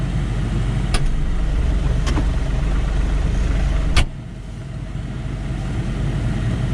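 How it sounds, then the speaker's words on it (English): A John Deere 3046R cab tractor's diesel engine idles with a steady low rumble, then drops abruptly to a quieter, lower idle after a sharp click, with a couple of faint ticks earlier. "when I was setting up the cameras, the engine idled down"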